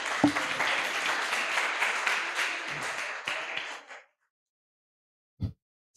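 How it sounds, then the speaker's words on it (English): A conference audience gives a burst of applause for a fashion talk, steady clapping for about four seconds that stops abruptly, followed by silence and a single soft thump. "A round of applause, please."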